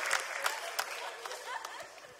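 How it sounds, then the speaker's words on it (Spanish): A brief, moderately faint burst of audience applause at a Spanish-language comedy talk show, with scattered claps and a few voices mixed in. "Un aplauso para Cintia"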